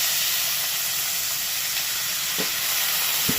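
Onion, ginger, garlic and green chilli paste with a splash of water frying in a pan, giving a steady, loud hiss and sizzle with a couple of brief clicks near the end and no talking.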